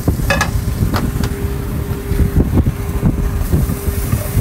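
Butter sizzling in a pan as the start of a sauce, a steady crackling fry with scattered pops and a faint low hum beneath.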